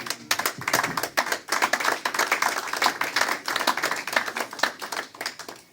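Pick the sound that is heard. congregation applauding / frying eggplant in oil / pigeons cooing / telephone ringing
congregation applauding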